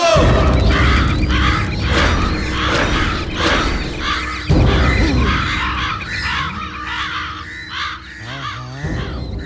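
Several crows caw loudly and repeatedly, overlapping in harsh bursts close by, with a few thumps and rattles underneath.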